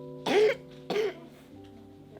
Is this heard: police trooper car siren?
no